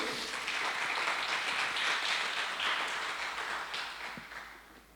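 Church congregation applauding during a sermon, a dense, steady wash of many hands clapping that fills the space and gradually fades toward the end.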